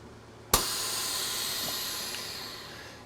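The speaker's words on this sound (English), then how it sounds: "That air sound you hear is actually the air coming back into the chamber." Air rushes back into the chamber of a Vacmaster 215c chamber vacuum sealer after sealing meat: a sudden loud hiss starts half a second in and holds steady, slowly fading over about two and a half seconds.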